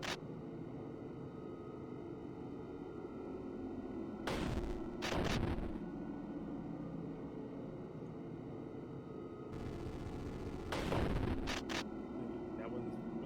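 A cross weapon fires in a video game, several sharp blasts in two clusters, thudding against a steady background hum. Talk is faint or absent.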